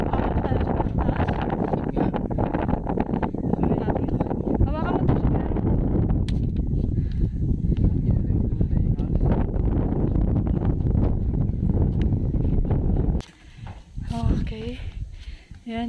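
Strong gusty wind buffeting the microphone on a hilltop at Bolinao, Pangasinan, a loud continuous roar with people talking over it before it suddenly drops away near the end.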